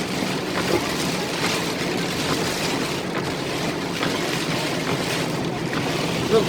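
A car drives through a flooded road in heavy rain, with continuous loud rushing and splashing water under the vehicle and steady rain noise, no talking.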